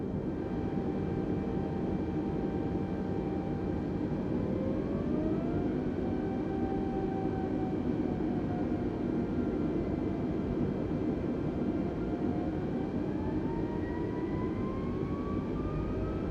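Airliner jet engines in Microsoft Flight Simulator spool up steadily with a continuous roar, rising whining tones climbing in pitch as thrust builds over a constant broadband hum.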